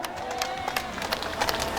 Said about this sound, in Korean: 여러분, 이제 먼저 박수 쳐야 되지 않습니까?